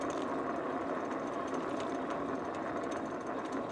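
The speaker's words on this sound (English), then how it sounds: "all you can hear are the tyres" Steady rolling hiss of Engwe P275 Pro e-bike tyres on pavement, a continuous close whirring roar with no voices.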